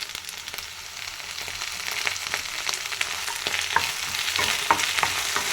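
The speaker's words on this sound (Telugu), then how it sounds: "దీన్ని బాగా వేయించుకోవాలి." Nalleru (veldt grape) stems and green chillies fry in a pan with a steady, close sizzle and occasional crackles and stirring scrapes, with no talking.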